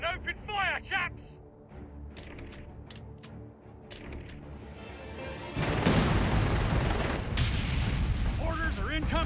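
Gunfire rattles across a Company of Heroes 3 battlefield in the Italy campaign: scattered sharp shots and bursts, then a dense, loud barrage of heavy firing and explosions. Voices shout between the volleys.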